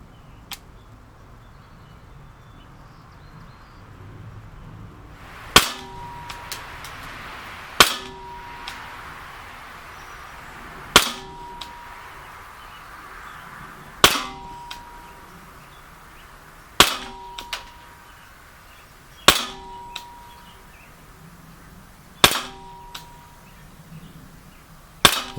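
About eight sharp shots from a PX4 Storm blowback pistol fired at targets crack out at even intervals of roughly two to three seconds, each followed by a faint metallic ring, with a quiet background between them.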